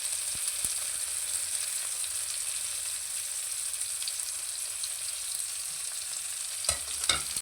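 Crab sticks frying in an omelette pan give a steady, bright sizzle that holds evenly throughout, close and moderately loud, with a couple of small clinks near the end.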